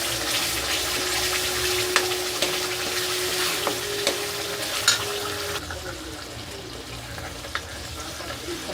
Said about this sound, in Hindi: अब हम डालेंगे पेस्ट, प्याज टमाटर वाला पेस्ट डालेंगे